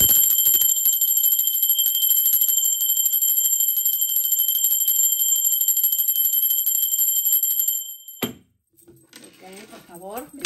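A bell rings in one continuous bright, metallic peal for about eight seconds, sustained and fairly loud, then stops abruptly as a voice begins speaking.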